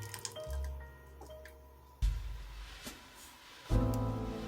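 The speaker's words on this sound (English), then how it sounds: "once our sauce is done simmering, all I'm going to do is pour it into a bowl" Thick simmered sauce poured from a pot into a bowl, heard close as soft wet squishing glugs in a few separate bursts with quiet gaps between them and no talk.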